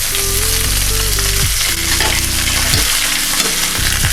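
Oxtail sizzles loudly in a hot pan after being flipped, a steady close frying hiss with occasional scraping and stirring clatter, no talking.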